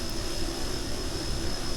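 A plane engine drones steadily in Kerbal Space Program as the aircraft comes in to land on flat ice, a faint, even hum with a constant tone and no break.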